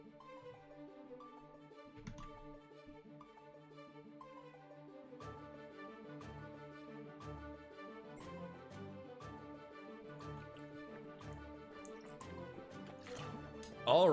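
Someone drinking water after a set, quiet close-up gulps, drips and small liquid sloshes spread across the stretch, ending in a sudden louder burst.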